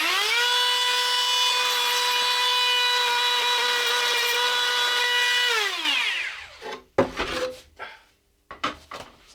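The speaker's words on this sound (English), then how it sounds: "we're just gonna take a router" Router working on a wooden guitar body: a loud, steady high whine for several seconds, then the pitch winds down as it stops, followed by scattered knocks and handling clatter.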